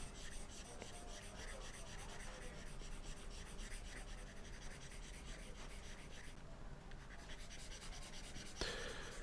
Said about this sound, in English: So let's erase this quickly.